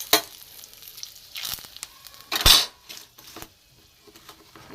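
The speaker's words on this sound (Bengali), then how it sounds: "এখানে আমি একটা জিরে ফোড়ন দিয়ে দেবো, গ্যাসটা কমিয়ে দেবো।" Cumin seeds, a dried chili and a bay leaf hit hot oil in a pan for ghugni, with brief bursts of crackling sizzle and a loud spitting flare near the middle before it settles to a quiet hiss.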